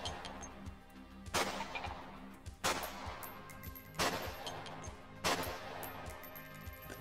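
Pistol gunfire at a zombie bullfrog in the game Cataclysm DDA, four sharp, loud shots spaced roughly one to one and a half seconds apart, each with a brief ringing tail over a quiet background.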